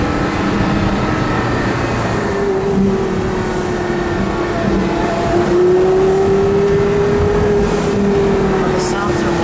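A yellow 2005 Porsche Carrera GT's engine runs in a continuous, fairly loud drone with a tonal whine that rises gently and falls back, recorded up close.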